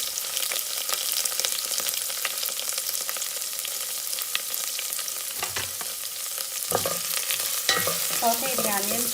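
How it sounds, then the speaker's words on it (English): Onions and curry leaves sauteing in a heated pan for a Mangalorean crab curry, a steady crackling sizzle with intermittent spoon scrapes and clinks, close-up with no voices. "Saute the onions till it's nice and translucent."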